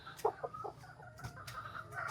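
A brooding hen clucking softly on her eggs, a few low, quiet clucks and murmurs close by against faint background noise.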